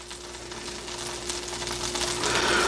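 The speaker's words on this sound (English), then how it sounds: "So our butter is almost ready to go here now. We can see it's starting to sizzle a little bit." Butter for sole meunière heating in a pan, giving a soft, steady sizzle and crackle that slowly builds in loudness over a few seconds, close and alone with a faint hum underneath.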